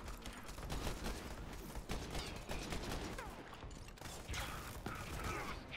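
Weapon reloading clicks and clacks amid a chaotic Borderlands 3 shootout, mechanical ratcheting and metallic handling mixed with scattered gunshots and a busy, continuous battle din.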